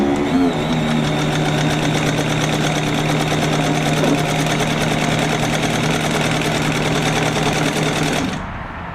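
A White 277 sewing machine running steadily through a stitch test, a loud, close, continuous mechanical whir and rapid needle chatter lasting several seconds before winding down at the end.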